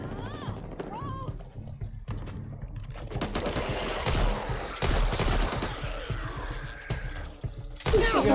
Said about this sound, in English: A common light machine gun.